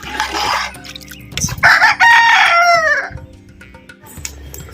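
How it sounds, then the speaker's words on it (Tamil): A rooster crows loudly and close in a village setting, one long rising and falling crow following clucking and rustling, with softer clucks trailing off afterward. "கோழி என்ன பண்ணுது குழம்புக்குள்ள கத்துது"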